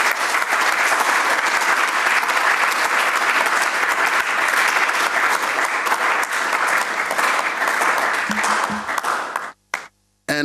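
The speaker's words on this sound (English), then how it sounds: "A thunderous round of applause for the Honorable George Mreko Duka." A public forum audience breaks into loud, dense applause that sustains without pause for about nine seconds before cutting off abruptly.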